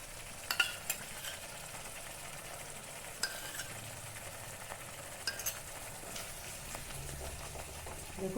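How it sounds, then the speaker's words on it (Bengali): Spice paste with yogurt and ground nuts for Bengali doi mohashol frying in oil, a steady soft sizzle with occasional stirring clinks of a spoon against the pan. "এটাকেও আমি খুব ভালো করে ভেজে নেব।"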